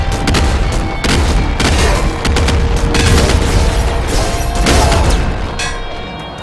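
Rapid gunfire from the video game Nuclear Throne crackles in dense, loud bursts with booming impacts, firing almost continuously and easing slightly near the end.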